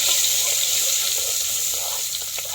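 Hing and mustard seeds sizzle in hot oil for a Gujarati cauliflower dish, a steady close crackling hiss throughout with no talking.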